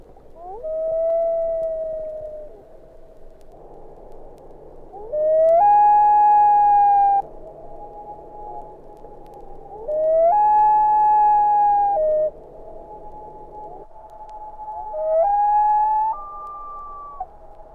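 A series of long, wailing loon calls, Type 1, two Type 2 versions and Type 3, rising and holding on steady pitches, played one after another with short pauses, clear and resonant over faint background hiss.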